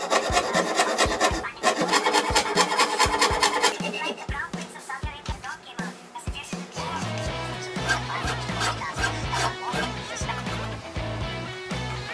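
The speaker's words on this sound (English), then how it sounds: "I sanded the brass" Steady abrasive rubbing as brass stock for an archtop guitar tailpiece is sanded by hand, a loud continuous rasping with rhythmic back-and-forth strokes and brief pauses, close up.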